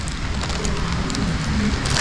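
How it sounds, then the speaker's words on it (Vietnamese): Rain falling steadily outdoors in a guava orchard, a dense broadband hiss with scattered drop patter, loud and continuous with no talk. "Trời mưa lại tới nữa rồi."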